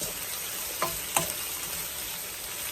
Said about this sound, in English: So just sauteing it with the sugar and the garlic together